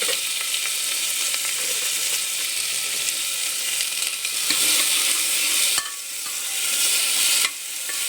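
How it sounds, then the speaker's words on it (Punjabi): Chopped onions fry in a pan with browned garlic for a masala mushroom dish, giving a loud, continuous close sizzle with brief stirring scrapes and no talking. "ਪਿਆਜ਼ਾਂ ਨੂੰ ਜ਼ਿਆਦਾ ਨਹੀਂ ਅਸੀਂ ਫਰਾਈ ਕਰਨਾ ਹੈ"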